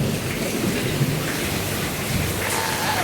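Rain falling steadily outdoors, a loud, constant hiss of drops with low rumbling underneath and no voices.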